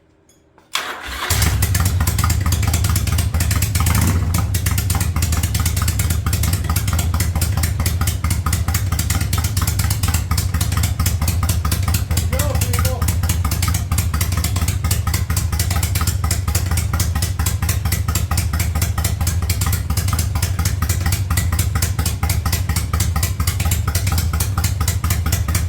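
A barn-find Yamaha Virago motorcycle with a single-carb conversion starts after a brief quiet moment and then runs on choke, a loud, steady, close engine note that holds unbroken throughout.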